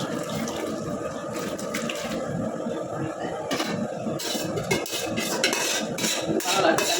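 Meat for biryani is stirred in a metal cooking pot, giving repeated clinks and scrapes with a watery background, while people talk nearby.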